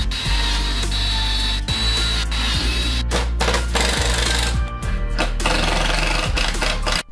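Power drill and driver working on a 3D printed air curtain part, a loud steady motor whine with repeated short pulses and brief stops, close up and alone.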